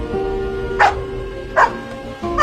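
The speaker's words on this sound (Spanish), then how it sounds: "Al ver a su dueño marcharse solo, Happy comenzó a ladrar sin cesar." Three sharp dog barks at regular intervals over a steady background hum, loud and close.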